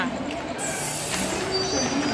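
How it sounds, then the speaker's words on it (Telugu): A train moving through a railway station: a steady, broad rumble with high wheel squeal and hiss running throughout, heard up close amid crowd noise. "రా రా రా రైలు ఇక్కడ చూడండి"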